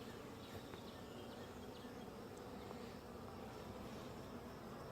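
Honey bees swarming around an open hive that is being split, a dense, steady buzzing hum that fills the air from nearby, continuous and fairly faint, with no talk.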